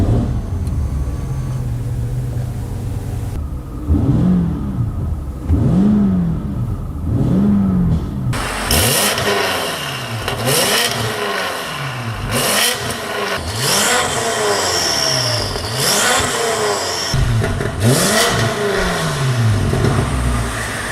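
A BMW M8 Coupe accelerates hard, its engine climbing through repeated rising revs with gear shifts, loud and close, starting under a steady whir before the engine note takes over.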